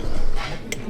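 Knife and fork on a plate while cutting up sausage, a short scrape followed by one bright clink of metal on ceramic, close and clear.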